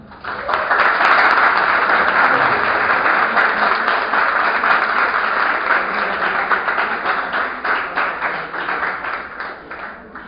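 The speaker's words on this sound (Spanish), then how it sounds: "Por favor, recibámonos con un fuerte aplauso." Sustained audience applause fills a lecture hall at a university science and technology week engineering talk, a dense steady clatter of many hands that swells quickly and tapers slightly toward the end.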